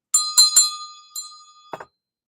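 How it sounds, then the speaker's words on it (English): A small bell rung three quick times, then a single lighter ding, followed by a brief rattle, each ring bright and ringing out cleanly in a quiet room. "I'm inspired to ring the bell."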